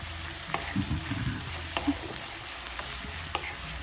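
Onions fry in a pan, giving a low, quiet sizzle with a few sharp clicks and scrapes of stirring.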